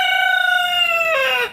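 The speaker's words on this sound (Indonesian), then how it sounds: "maaf suara ayam mengganggu" A rooster crows once, close and loud, in a long drawn-out call that rises at the end and then cuts off, with no other sounds around it.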